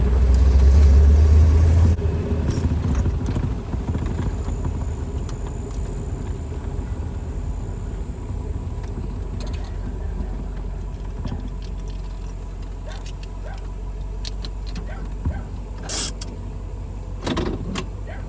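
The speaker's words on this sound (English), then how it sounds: "Sound of a covered bridge." Car rolling through a wooden covered bridge, a steady low rumble with faint patter and rattles, heavier at the start, from inside a C2 Corvette with fiberglass body.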